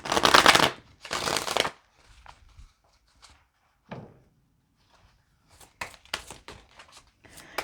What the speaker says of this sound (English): These cards are refusing to shuffle